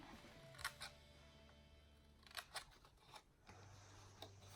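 Scissors cut through a cardboard box at an angle, giving a few sharp, close snips in short clusters against a faint hum, with no talking.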